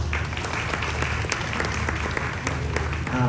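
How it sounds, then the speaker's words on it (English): Hackathon event attendees give a big round of applause, steady dense clapping filling the room, ending with a brief voice. "Can you give a big round of applause?"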